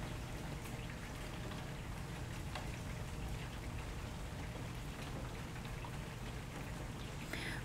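Steady rain falls outside an open window, a constant even hiss with scattered drops tapping on surfaces, heard alone without voices.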